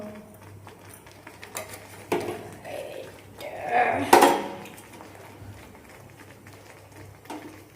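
Mango chutney is served into a bowl with light clinks and scrapes of a utensil against dishware, peaking in a brief cluster of clatter midway, under quiet background noise.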